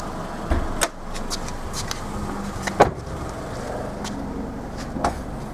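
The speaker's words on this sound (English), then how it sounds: "pop the boot." The boot of a Mitsubishi Galant Fortis Sport pops open with a few short, sharp clicks and thuds, and a distinct latch release lands near the middle over quiet outdoor background.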